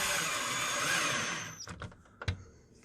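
A power drill runs continuously as it tightens a nut on the hardware of a Mustang S550 side skirt, then stops, followed by a few sharp clicks and knocks from the parts.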